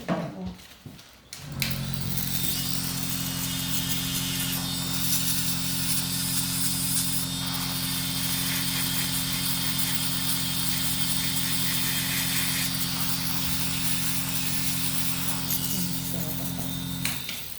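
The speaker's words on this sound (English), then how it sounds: "Just going to drill it a little bit more." A steady mechanical whine from a nail drill grinding a thick, lifted toenail runs continuously and fairly loud, starting after a brief clatter and holding an even pitch throughout.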